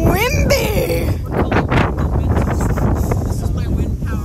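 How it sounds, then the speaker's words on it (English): Strong gusts hit the microphone outdoors during a windstorm cosplay shoot, producing loud, rumbling buffeting that surges and drops continuously, with a person's voice briefly audible at the start. "It's fucking windy."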